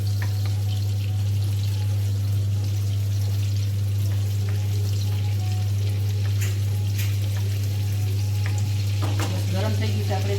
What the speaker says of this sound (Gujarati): ગરમ થઈ ગયું છે. આપણે તીખી અંદર ગ્રેવી એડ કરી દઈશું.